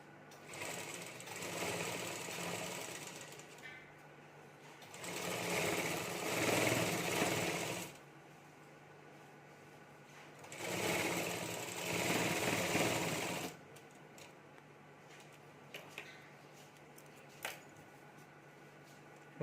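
A regular sewing machine stitches fabric for a potli bag in three loud, steady bursts of rapid whirring, each a few seconds long, with quieter handling pauses and faint clicks between.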